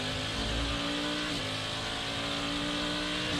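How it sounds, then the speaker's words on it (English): Cadillac number 31 prototype race car engine at the Rolex 24 at Daytona, a loud continuous roar with steady harmonic drone and a slight dip in pitch partway through, sounding a little rough and uneven, with no talking. "Cadillac number 31 engine that I'm listening to doesn't sound as clean as it did earlier."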